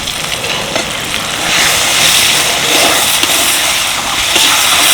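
Green peas tossed into a hot wok sizzle steadily with garam masala for a vegetarian drumstick-flower curry, a dense, loud, continuous frying hiss that swells slightly after the first second and carries on without voices.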